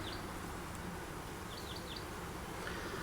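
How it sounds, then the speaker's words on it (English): Honeybees humming around an open nuc hive during a light honey flow, a faint, continuous buzz in the background with a few small bird chirps on top. "Right now the bees are so calm and gentle with the little bit of honey flow we got going on"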